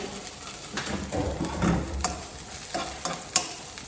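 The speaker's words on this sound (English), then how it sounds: "broccoli is going to go in first, and you're going to cook that for about a minute or 2" Broccoli stir-fries in oil in a pan with a close sizzle. Repeated scraping and stirring strokes come in uneven bursts, and a few sharper knocks sound against the pan.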